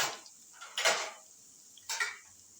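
A medium-sized ground onion is added to a cooking pan over lightly browned garlic paste, marked by two short metallic scraping clatters of a utensil against the pan on a quiet kitchen background.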